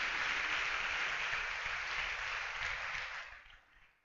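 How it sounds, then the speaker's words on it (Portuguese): A church congregation applauding Jesus, with a dense wash of steady clapping from a crowd that holds for several seconds and then tapers off toward the end. "Dá um aplauso a Jesus por isso, meu querido."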